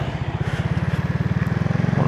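A motorcycle engine drones steadily and close on a long solo ride from Bohol to Pangasinan, its low, even pulsing holding the same pace throughout with no break.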